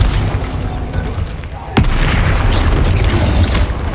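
A Bombarda explosion spell cast in Hogwarts Legacy, a loud booming blast that bursts in suddenly and rumbles on, with voices and game noise around it.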